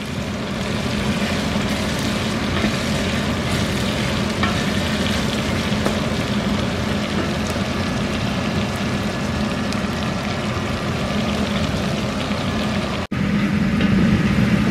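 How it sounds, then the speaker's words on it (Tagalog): Onions sauté in a hot pan until golden brown, giving a steady, close, loud sizzle and frying crackle that runs unbroken with no talk, cut by one brief dropout near the end. "Saute lang natin siya."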